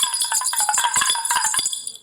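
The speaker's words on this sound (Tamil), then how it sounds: "ஏன்னா இது குடுகுடுன்னு சத்தம் கேட்கறதுனால குடுகுடுப்பி அப்படின்னு கூட நம்ம சொல்லலாம்" A small hourglass-shaped kudukuduppi hand drum cast in bronze rattles in a fast, continuous, tinkling patter up close, steady for about two seconds before tapering off.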